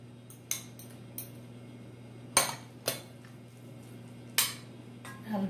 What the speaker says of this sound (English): then mix the onion.